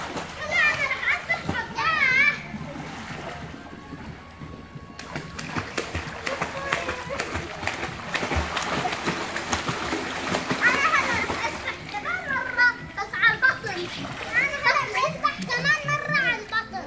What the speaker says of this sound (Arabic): احمد انا هلا رح اسبح سباحة عادية بس